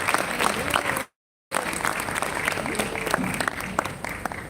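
Audience applause at a literature festival in Jaipur, a dense crowd clapping loudly and steadily, briefly cut off by a short gap before resuming just as strongly.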